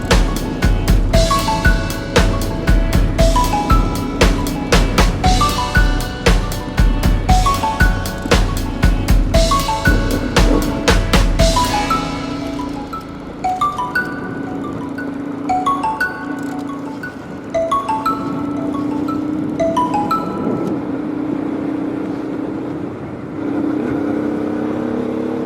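A Honda Transalp 600 motorcycle cruises at about 30 mph in third gear on a UK green lane, its steady engine drone running on with rhythmic ticking and rattling through the first half before quieting.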